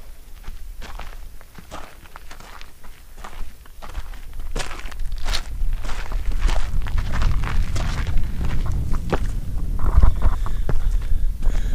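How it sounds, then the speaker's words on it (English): Strong wind rumbles and buffets the microphone throughout, growing louder toward the end, with occasional footsteps crunching underneath, at ruins in Wupatki National Park, Arizona. "A little windy out here today"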